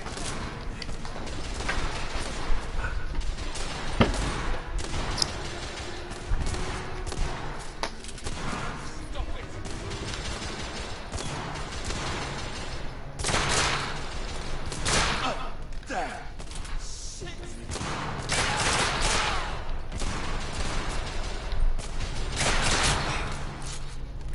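Video game gunfire crackles in dense, rapid volleys with heavy thuds, running continuously under overlapping chatter from players.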